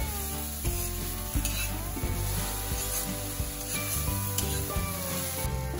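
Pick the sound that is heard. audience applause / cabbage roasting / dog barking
cabbage roasting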